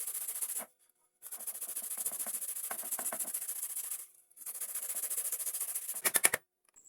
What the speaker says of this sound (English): use the smoother part of the grater to grate the carrots very finely and smoothly